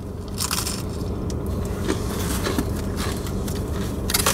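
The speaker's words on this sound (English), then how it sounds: "Crust is nice and crunchy." Close crunching bites into a crisp pizza crust, several crackly chomps and chewing sounds over a steady low background hum.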